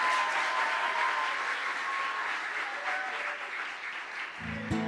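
A large audience at a talent competition final applauds continuously, a broad, even wash of clapping heard from a slight distance, with a short burst of a voice at the very end.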